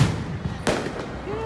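A single sharp firework bang cuts through a crowd's chatter at a birthday celebration at a mall, with a faint later thump and voices continuing underneath.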